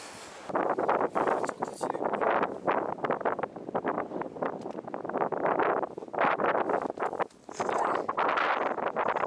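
Steady, loud wind buffeting the microphone in a windy valley in Nepal, a continuous roaring rumble with gusty surges and brief lulls, no voices.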